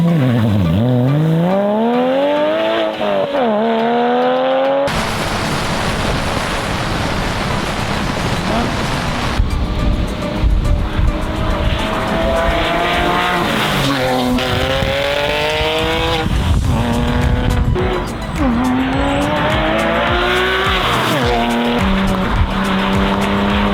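Porsche 997 Carrera 4S with a Fabspeed full exhaust, loud and close, revving up and down in repeated sweeping pulls with a raspy, rising and falling engine note throughout.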